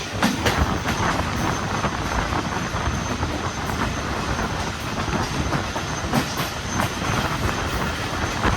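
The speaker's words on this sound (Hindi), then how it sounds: "तो ये खड़ी हुई है सामने 13 एक्सप्रेस U40 9038 के साथ।" Train noise at a station with the 13 Express and U40 9038 locomotive: steady rumble of rail cars with faint clickety-clack and occasional sharp wheel clicks, moderately distant, no voices.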